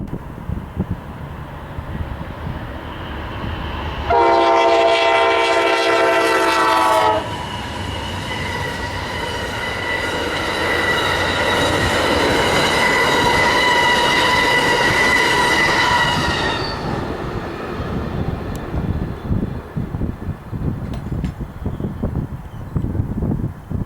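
Amtrak 48 passes East 305th Street in Ohio with a loud blast of its horn, followed by a long stretch of loud squealing wheels and rumbling cars, then fading rattles as it rolls away.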